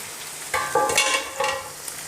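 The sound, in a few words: minced meat (keema) frying in a pan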